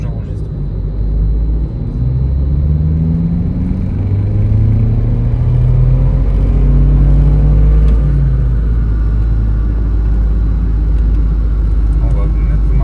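Car engine revving hard on a dyno during a power run at a tuning shop, a loud steady low roar with rising engine tones that climbs and holds throughout, under a constant rumble.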